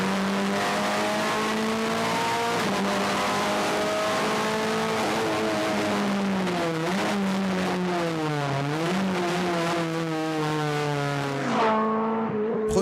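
A Renault Clio Cup race car drives hard, its engine note climbing and falling through repeated revs and gear changes, loud and close throughout, seemingly heard from inside with steady vibration underneath.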